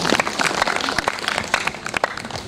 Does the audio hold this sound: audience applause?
yes